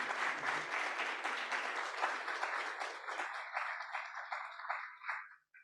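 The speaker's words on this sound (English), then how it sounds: "Please, please, please give our panel a resounding round of applause." A symposium audience applauds a panel, with dense, steady clapping that gradually thins and fades out to silence.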